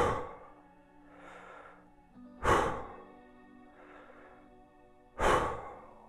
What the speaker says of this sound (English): Couple inhale, exhale.